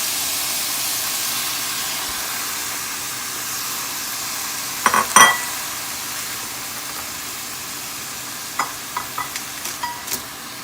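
Tomatoes, coriander leaves and dried red chillies frying in a pan for chutney, a steady soft sizzle with a few brief stirring scrapes and clinks partway through and near the end.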